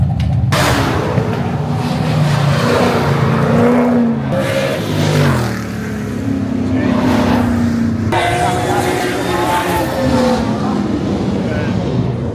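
A Ford G6 Falcon's cammy idle: a steady, loud, lumpy engine rumble runs throughout, with voices talking over it.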